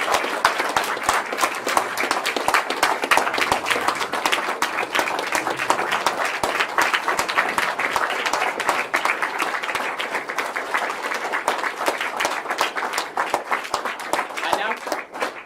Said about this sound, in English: Let's give our new Eagle Scout one more round of applause.